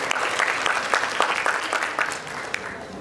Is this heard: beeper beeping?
no